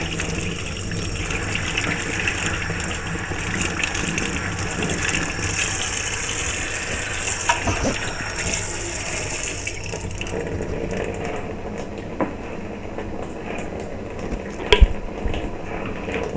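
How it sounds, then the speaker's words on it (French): Running tap water pours steadily while something is rinsed, a continuous hiss and splash that thins out partway through, with a brief knock near the end. "Et puis on rince."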